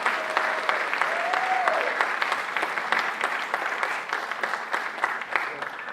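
Steady applause from a conference audience at a pro-Israel event, dense broadband clapping sustained for several seconds at fairly even loudness, with faint voices and a brief whistle-like tone early on.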